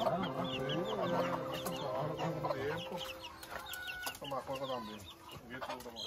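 Roosters at a rooster farm in Ponce, Puerto Rico, cluck and call repeatedly near the recorder, mixed with other fowl while people talk in Spanish throughout.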